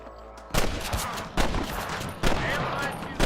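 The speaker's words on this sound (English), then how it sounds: "I can hear more guns." Gunfire in Red Dead Redemption comes as four loud, sharp shots spaced nearly evenly, each with a short echoing tail.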